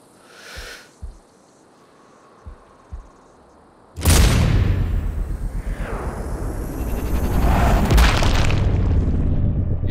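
A heavy sniper rifle shot and explosion in Sniper Ghost Warrior Contracts 2: a few faint thuds, then a sudden massive blast that rolls into a long, loud rumbling roar with crackling debris.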